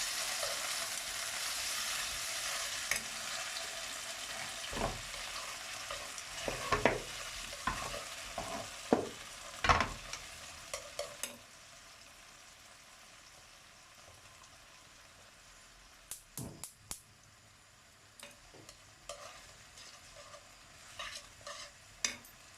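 Swiss chard and potatoes with tomatoes and peppers being stir-fried in a pan, with a steady soft sizzle under repeated scraping and stirring strokes, several sharp utensil clicks against the pan, close and moderately loud.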